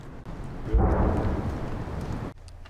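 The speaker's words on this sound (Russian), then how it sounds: "Недолгий полет и взрыв где-то там," A 120 mm mortar round explodes somewhere far off on the horizon, heard as a low, deep rumbling boom that swells quickly and rolls on for about a second and a half before cutting off.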